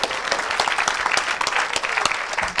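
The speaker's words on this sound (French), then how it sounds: "Somebody clap for the Lord." A church congregation claps for the Lord in a loud, dense, continuous burst of applause that fills the room, with a faint voice or two mixed in under the clapping.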